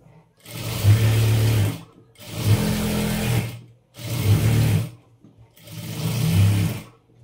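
Sewing machine stitching piping and lining onto a sleeve, running in four steady bursts of rapid mechanical whirring and needle clatter separated by short pauses, close and clear with no talk.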